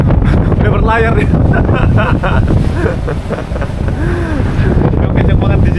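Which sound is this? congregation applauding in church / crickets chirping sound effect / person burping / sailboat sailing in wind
sailboat sailing in wind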